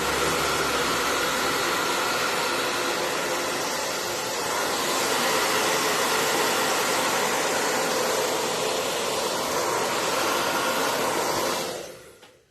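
A hair dryer blows steadily and loudly on a freshly painted, stenciled picture frame with a patina finish, a constant whooshing rush that shifts slightly in tone midway and then cuts off near the end.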